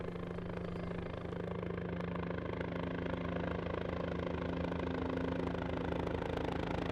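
Steady, droning rotor and engine noise of a helicopter leaving Upper Mustang, Nepal, continuous and fairly even throughout, with no voices.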